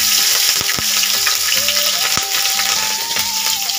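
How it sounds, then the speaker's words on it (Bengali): Nigella seeds and chili hit hot oil in a pan, producing a loud, dense, steady sizzle with occasional sharp knocks, while a tonal background melody runs underneath; no one talks. "কালো জিরে দিয়ে দিচ্ছি, লঙ্কাটা দিয়ে দিলাম"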